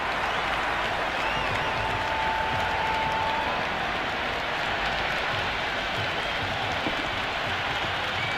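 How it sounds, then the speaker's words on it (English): Stadium crowd at an India vs New Zealand T20 cricket match cheering and applauding after a boundary, a dense, continuous roar that stays loud and steady throughout, with no speech standing out. "It's evident and ever so audible that the crowd is at near bursting point at today's play"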